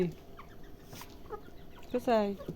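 Portuguese chickens on a small farm clucking close by, a few short scattered calls followed by a louder drawn-out squawking cluck near the end.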